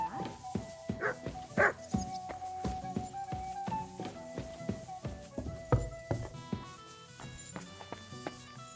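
A dog barks in short repeated bursts in the medieval video game Kingdom Come: Deliverance 2, with a few yips over background music and footsteps, the barks fairly close and clear.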